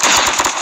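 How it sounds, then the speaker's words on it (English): A flashbang grenade detonates in the Call of Duty Mobile Raid map, a loud, dense burst of noise that fills the whole short moment without easing off. "Flashbang!"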